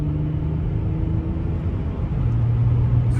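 A Renault Vel Satis 3.5 V6 with a faulty gearbox cruises on the highway, a steady low cabin rumble of engine and road noise with a humming engine note, no talk.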